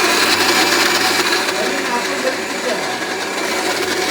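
A kitchen mixer grinder churns boiled potatoes, a loud continuous motor whir with a thick grinding texture that holds steady for several seconds with no one talking over it.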